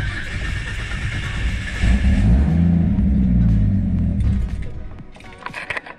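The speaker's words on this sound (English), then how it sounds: "As you can see, it takes a long time to start." A car fitted with an FGX fuel pump cranks for a long stretch with a loud, rumbling churn before the engine slowly catches and settles into a quieter idle.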